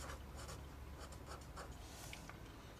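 Pen or marker writing on a surface while a math lesson on arithmetic and geometric sequences is worked out, with steady scratchy strokes in short bursts, fairly close and continuous.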